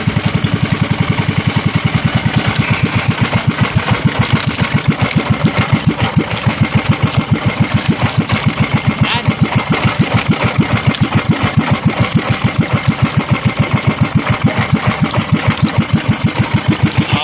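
Small fishing boat's engine running with a fast, steady, rhythmic putter, loud and close throughout, with no talking.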